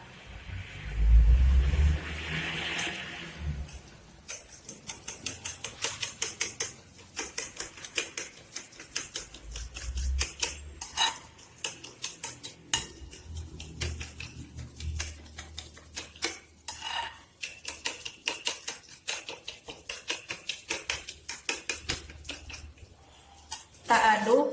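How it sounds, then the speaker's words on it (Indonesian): Spoon stirring a corn-meal cake batter in a bowl until the granulated sugar dissolves, quick rhythmic scraping and light clinks repeating steadily, close and fairly quiet. "Kita aduk hingga gula pasirnya larut ya"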